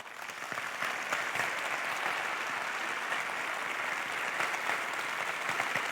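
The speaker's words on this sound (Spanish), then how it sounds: "Fuerte el aplauso." An audience applauds after a talk, the clapping swelling quickly from quiet into a dense, sustained wash of many hands that holds steady to the end, moderately distant and with no voices over it.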